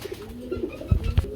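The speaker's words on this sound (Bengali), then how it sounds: "এটা কি কবুতর জোড়া" Pigeons kept for sale at a market coo softly at close range, a few low rolling calls with soft thumps and rustling near the end, and no voices.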